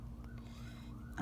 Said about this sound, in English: Sorry if you can hear that siren in the background.